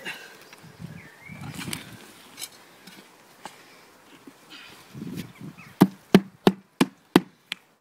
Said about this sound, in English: Actually the spade hit that quite hard and it's not really gouged it much